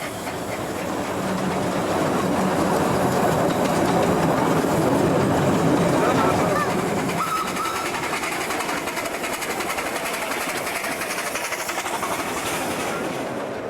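A narrow gauge railway train runs at the 1990 National Garden Festival, with a continuous close rumble and a steady clickety-clack of wheels over rail joints throughout, and no talk.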